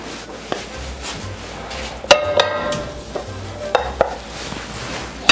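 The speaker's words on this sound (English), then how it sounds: "we have approximately 330 kilograms of pork, beef, and veal, which we're going to now brown into our sauce" Roughly 330 kilograms of pork, beef and veal browning in a large pot for Italian tomato sauce, giving a steady sizzling bed broken by a few sharp clanks and scrapes of a utensil against the pot.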